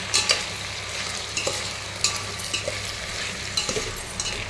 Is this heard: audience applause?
no